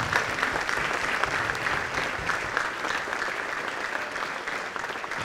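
Warm applause from a crowd at a summer evening brass band concert, a continuous, fairly soft wash of many hands clapping that holds steady throughout without any speech over it.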